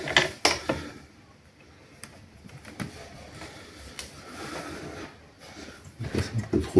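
A copper wire stripping machine is loosened and readjusted after being set too tight. Close creaks, ratcheting clicks and mechanical rattles come in irregular bursts, with a few louder knocks at the start and end.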